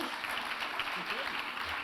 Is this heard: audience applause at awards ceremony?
yes